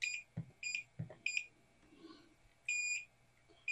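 A multimeter beeps during a continuity test while an OWON XDM1041 is being repaired: four short, clear electronic beeps spaced under a second apart, then one longer steady tone near the end, alongside a few faint clicks of probes being handled.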